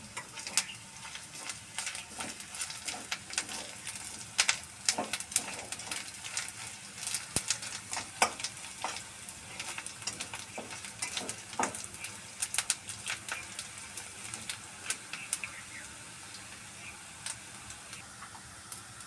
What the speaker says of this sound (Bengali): দিয়ে দিচ্ছি একটু জিরার ফোড়ন